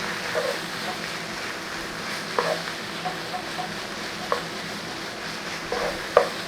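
Beef mince with a tablespoon of flour being stirred in a pan, a steady low sizzle with a few sharp scrapes and clicks of the spoon against the pan, alone and fairly quiet.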